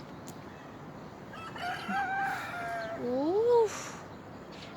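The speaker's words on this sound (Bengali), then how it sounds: "ওপাশে মোরগ ডাকছে।" A rooster crows nearby in one rising and falling call beside a rooftop garden, with a brief exclamation from a person at the start and faint outdoor background noise.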